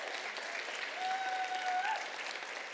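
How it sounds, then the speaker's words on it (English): A crowd applauds at a university startup showcase, a steady wash of clapping heard from a distance, with a faint tonal whine running through it. "Big round of applause"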